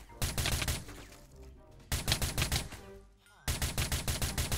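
Automatic rifle fire in the Minecraft video game comes in three loud, rapid bursts of shots, separated by short pauses, with no talking.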